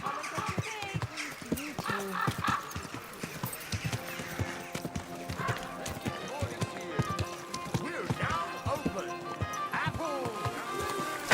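Rapid, rhythmic clip-clop of horse hooves trotting close by in the video game Kingdom Come: Deliverance II, with a horse snorting and voices talking over the steady hoofbeats.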